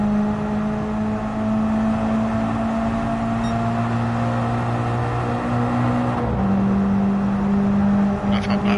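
Mazda Spirit Racing 12R race car engine revving in Gran Turismo 7, a steady loud droning engine tone held throughout with a pitch dip and shift near the end, continuous and close.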